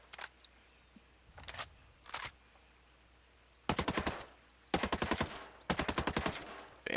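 A Tavor bullpup assault rifle firing in the video game Ghost Recon Breakpoint: two short bursts first, then three longer rapid-fire bursts, each a crisp rattle of closely spaced shots separated by brief quiet gaps.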